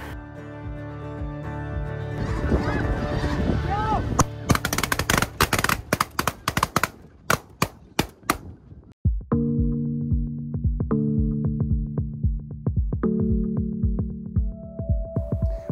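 A rapid string of loud shotgun blasts from a Savage Renegauge semi-auto shotgun fired at snow geese cracks out in bursts, followed by a pause and then more scattered shots over a steady low engine-like hum.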